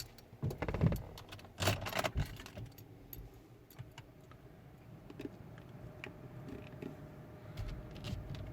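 Car keys for a Nissan Qashqai 2.0i jangle in a few brief metallic bursts close by, followed by quieter clicks and handling noise.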